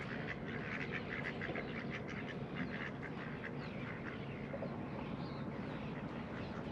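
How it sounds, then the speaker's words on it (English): Wild ducks at a waterfront on New Zealand's West Coast quack repeatedly in a busy, overlapping chorus, fairly close and steady throughout, with no talking. "Look at all the birds coming at us, guys. They think we've got food."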